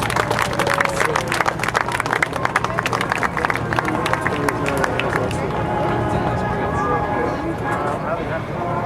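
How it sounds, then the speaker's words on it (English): An airshow crowd in Rhode Island applauds after a C-130J Super Hercules demonstration, with dense clapping for about five seconds that then thins out beneath ambient crowd noise and a voice. "A great round of applause for the Super Herc."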